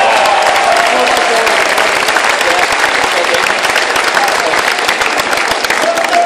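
Sustained applause from a large crowd at a college basketball senior day pregame, loud and dense clapping filling the whole stretch without letup during player introductions.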